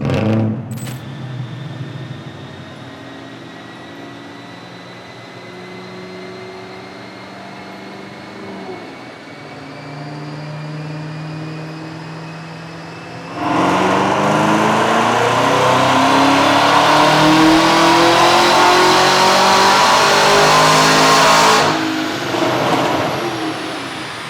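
A Camaro ZL1 1LE engine with a MagnaFlow exhaust drones steadily on a dyno, then revs hard and climbs loudly for several seconds under load before abruptly cutting back, close and powerful.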